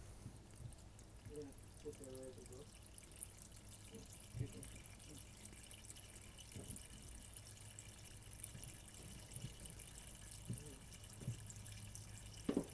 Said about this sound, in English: So it's draining out the antifreeze, very, very pink.